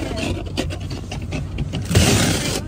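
A dustpan scraped across a frosted car window in winter gives repeated rough rasping strokes, close and fairly loud, building to a longer, harsher scrape near the end with no talking.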